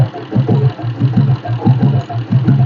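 A vintage Royal Enfield Bullet diesel motorcycle engine idles with a steady, loping thump, close and fairly loud, its beat repeating evenly throughout.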